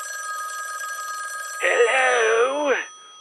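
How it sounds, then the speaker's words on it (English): A telephone rings with a steady electronic tone, then a louder warbling ring takes over before stopping abruptly, close and clear. "Okay, phone's ringing."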